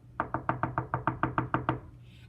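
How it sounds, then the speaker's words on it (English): Knocking on a door: eleven firm, evenly spaced knocks in a quick steady rhythm, close and fairly loud, then a brief fading tail, with no talking over it. "And they knocked at every door."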